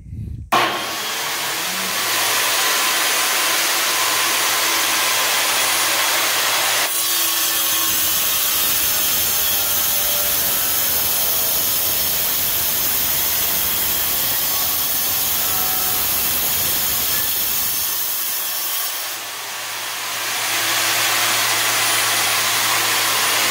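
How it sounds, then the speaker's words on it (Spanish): Ceramic bathroom tile being cut, a loud continuous grinding hiss that runs for about twenty seconds with a change in pitch partway through, close and alone. "con mucho cuidado vamos a comenzar a cortar lo que es el tile"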